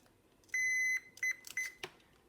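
A multimeter sounds its continuity beep across test leads: a steady tone held for about half a second, then two short beeps, followed by a light click, quiet and close.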